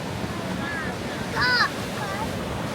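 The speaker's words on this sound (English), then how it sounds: "Sea's a bit rough though." Rough sea breaks along the seafront at Biarritz in a constant broadband wash of surf and wind, with a faint voice-like cry rising briefly midway.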